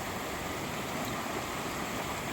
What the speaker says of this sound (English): normally this creek is maybe 12 inches deep, and the water right now is up, I would say, about 4 feet.